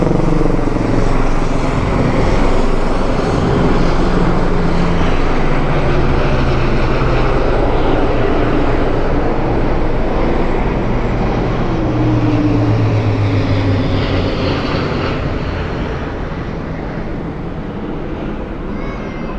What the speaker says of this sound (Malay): Kapal terbang.